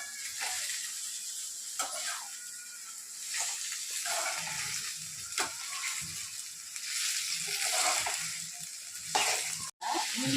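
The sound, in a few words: cluster beans frying with onions and ginger garlic paste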